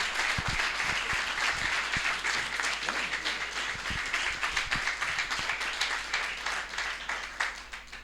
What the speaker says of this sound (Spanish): Un fuerte aplauso para el Dani.